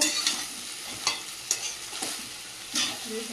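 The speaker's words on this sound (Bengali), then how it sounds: "ভাতটা এর মধ্যে দিয়ে দেব দিয়ে ভালো করে ভেজে নেব" Cooked rice is stir-fried in a pan for a festive home meal, the spatula scraping and tossing in sharp, uneven strokes over a faint steady sizzle, close by and with no talking.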